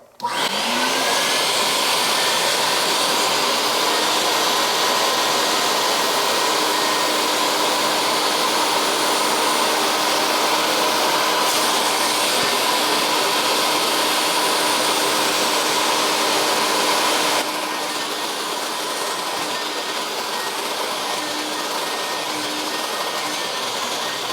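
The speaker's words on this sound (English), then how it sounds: "Okay, and then we'll just turn the vacuum on." A Mytee S300-H heated carpet extractor vacuum runs with a loud, steady motor roar and high whine nonstop, dropping slightly in level near the end.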